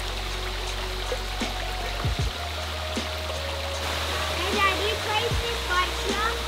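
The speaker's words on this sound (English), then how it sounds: "There's so much creek for you to go swimming. There's like rockfall. There's a little bit of a bigger waterfall up there as well." Creek water and a waterfall at Jourama Falls on Crystal Creek, a steady rushing flow with trickling and splashing, and people's voices briefly audible over it.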